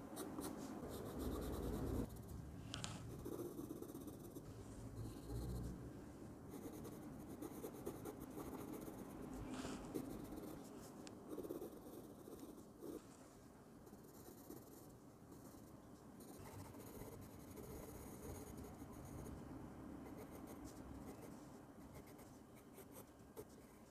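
Pencil shading on paper while drawing a full-body Eren Titan from Attack on Titan, a steady close scratchy rubbing that continues throughout with no talking.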